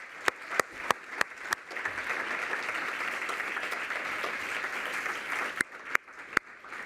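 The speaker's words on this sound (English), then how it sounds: "You really deserve a big round of applause." An audience at a Columbia University women's initiative launch breaks into steady applause, preceded and followed by a few sharp individual claps, with no talking over it.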